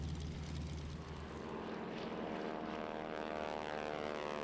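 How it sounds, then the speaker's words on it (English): Propeller engine of a replica Nakajima Kate World War II torpedo bomber at a Pearl Harbor reenactment, a steady loud droning roar that holds throughout with its pitch wavering slightly. "This airplane right here is a replica of a Nakajima Kate."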